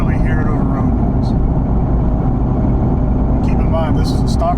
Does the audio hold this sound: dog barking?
no